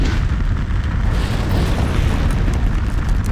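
A loud, continuous roaring burst like flames or an explosion as a desk catches fire in the prison video game Hard Time 3, dense low rumble sustained throughout.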